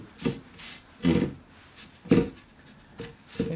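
Brush strokes rub shellac knotting onto an unsanded wooden offcut from a table saw, giving four or five short, close scratchy swipes spaced about a second apart with quiet pauses between.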